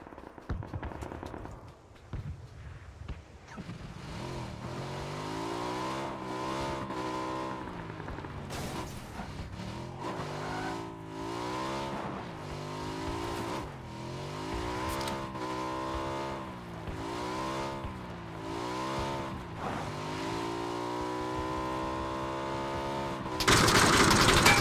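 A moped engine in a shooter video game revs and drones steadily, its pitch rising and falling as it accelerates and shifts. No one speaks.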